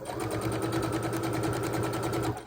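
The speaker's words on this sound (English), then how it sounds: "start by chain stitching my 4 blocks, my first 4 blocks" A sewing machine chain-stitches quilt blocks in one continuous, rapid run of needle strokes, close and steady, then slows at the end.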